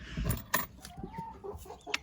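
Chickens cluck close by in short, busy bursts, with a few sharper squawks scattered through the low farmyard rustle.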